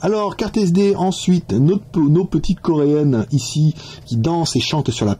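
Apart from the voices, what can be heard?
None of the usual background noises is heard.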